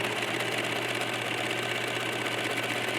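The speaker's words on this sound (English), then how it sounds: "I'm going to use the serger to finish it so that we don't have any fraying" A serger finishing the raw edge of flannel fabric, running as a loud, steady, close mechanical whir with a fast even rhythm throughout.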